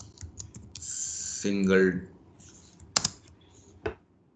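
Code keys tapped on a computer keyboard in quick clicks and short bursts, close up, with someone talking over part of it in Hindi.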